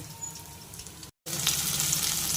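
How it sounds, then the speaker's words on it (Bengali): Battered ridge gourd pieces sizzle steadily in oil over a low gas flame, a close, continuous crackling hiss broken by a very brief silent gap. "এবার এটাকে আমি তেলে ভেজে নেব আর গ্যাসটা একদম লো ফ্লেমে রাখবো"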